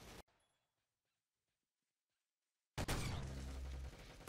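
A gunshot rings out in the Roblox shooter game Arsenal: a short sharp burst, then near silence, then a loud sustained blast of gunfire noise that fills the rest of the moment.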